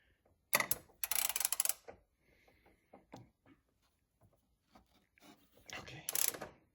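A 13 mm socket on a ratchet works the rear shock nuts of a BMW E46 convertible, giving short bursts of quick ratcheting clicks separated by quiet pauses, close and fairly faint.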